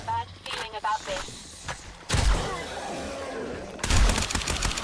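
Turrets firing in 7 Days to Die (Ravenhearst mod), two loud sustained bursts of rapid shots after a brief voice at the start.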